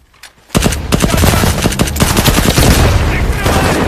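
Enemy soldiers open up with machine guns in a war film: after a brief quiet start, a loud, dense barrage of rapid automatic gunfire erupts and keeps rattling without pause until the end.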